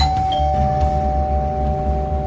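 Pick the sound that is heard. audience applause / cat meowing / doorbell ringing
doorbell ringing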